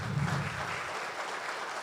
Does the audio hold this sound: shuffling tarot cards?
no